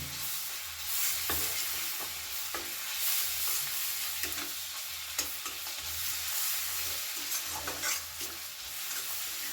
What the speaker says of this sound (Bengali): যে রসুনের কোয়াগুলো রেখেছিলাম সেগুলো আমি গ্রেট করে এর মধ্যে দিয়ে দিলাম ভালো করে একটু ভাজা ভাজা মতো করে দেবো